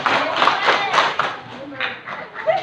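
A group of participants at a Ramadan camp religious study session claps in short patterned bursts under an instructor's spoken cues, a roomful of hands striking in rough unison with talk between.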